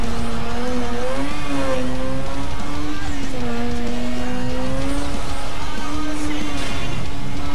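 Race cars in Need for Speed Most Wanted roar continuously, with loud engines rising and falling in pitch as they rev and shift, plus hints of tire squeal, filling the whole stretch without a break.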